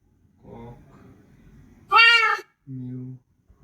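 A single clear cat meow rises sharply in the middle, alone, with a person's low voice briefly before it and a voice mimicking a meow just after.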